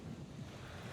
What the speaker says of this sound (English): that's a famous wave right there